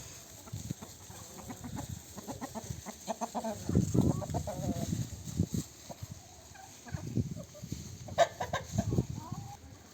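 Leghorn chickens cluck and murmur in a village yard, with intermittent close calls and a turkey-like gobbling mixed in over faint background noise.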